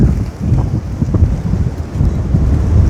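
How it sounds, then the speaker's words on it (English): Strong outdoor wind buffets the microphone at a pellet gun shooting spot, a continuous low rumbling roar with gusty swells and no pauses. "It's just too much wind."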